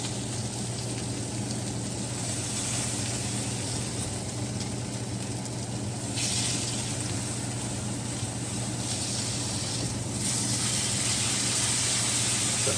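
Steak searing in a pan under a salt crust, a steady loud sizzle and bright crackling hiss that runs unbroken throughout, swelling briefly a couple of times.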